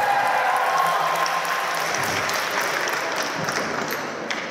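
A wedding audience claps and cheers together just before the couple's first dance, a steady wash of applause that fades slightly toward the end.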